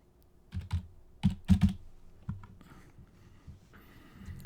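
Keys clack on a computer keyboard as a filter value is typed, a few close, irregular taps in short bursts with pauses between them and no voices.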